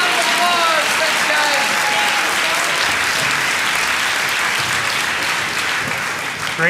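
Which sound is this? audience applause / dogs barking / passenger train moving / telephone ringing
audience applause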